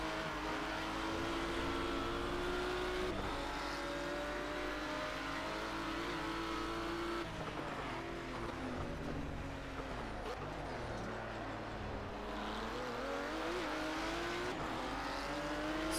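A historic race car in the Project Cars racing game drones steadily at high revs through the whole stretch, its engine note rising and falling with gear changes and corners, with no speech over it.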